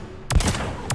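Single shot from the Phalanx heavy pistol in Mass Effect 3, a sharp loud crack with a short ringing tail and the start of a second report at the end.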